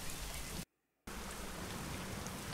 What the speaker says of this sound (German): Dieses Regenwetter, ne?